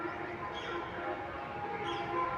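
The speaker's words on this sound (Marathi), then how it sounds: "चला, तर आले आहे ट्रेन." A train pulls into a station in Shirdi with a steady, dense rumble of wheels and engine, a continuous broadband roar at moderate distance with no voices.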